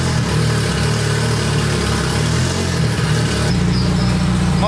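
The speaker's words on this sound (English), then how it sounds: "My belt's definitely chirping" A car engine idles loudly nearby with a steady low drone, and a drive belt chirps over it; partway through, the note shifts as the idle changes.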